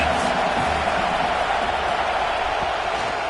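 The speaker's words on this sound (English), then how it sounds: "This crowd trying to make life miserable for this offense." Home crowd at a college football stadium during a UCLA at Mississippi State game, a steady loud roar of massed voices filling the air continuously with no break.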